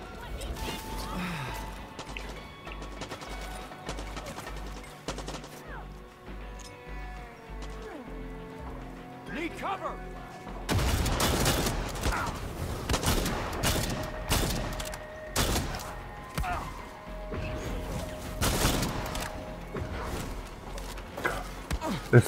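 Shotgun blasts in Far Cry 6 ring out as a series of loud, sharp bursts in the second half, following a quieter stretch of game noise and rhythmic thumps.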